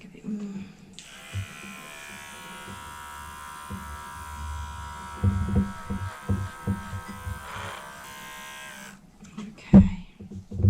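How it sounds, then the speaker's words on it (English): Electric clippers shaving the fur on a guinea pig around a large sebaceous cyst, a close steady buzz lasting about eight seconds, with soft handling bumps and quiet talking underneath before and after. "Let's just shave that back a bit more."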